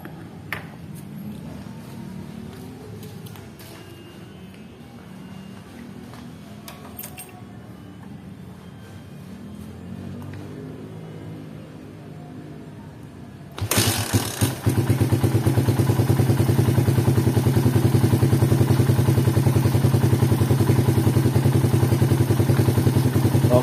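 Motorcycle fitted with a Fukukawa exhaust, first idling with light mechanical clatter, then suddenly revved hard at about two-thirds through into a loud, sustained roar that holds to the end.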